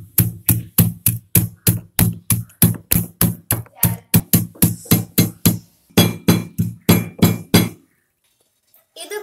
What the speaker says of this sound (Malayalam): 4 ഏലക്കായ, 1 കഷ്ണം ഇഞ്ചി, ഇതൊന്ന് ഇനി ചതച്ചെടുക്കാം.